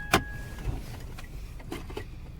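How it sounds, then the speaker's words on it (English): A short mechanical whir and click from a Jeep Compass electric parking brake automatically engaging, followed by a few faint clunks in a quiet interior. "The car automatically engages the parking brake."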